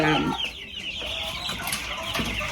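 Chickens cluck and fuss close by inside a straw-bedded chicken tractor, a steady run of short overlapping clucks over the whole stretch with no voices.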